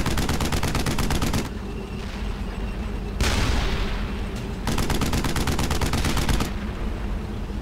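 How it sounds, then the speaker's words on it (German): Gunfire in the video game Brothers in Arms: Hell's Highway, with loud sustained machine-gun bursts broken by short pauses and a sharp blast in the middle, the rattling volleys resuming close and heavy. "Was wird denn hier geschossen?"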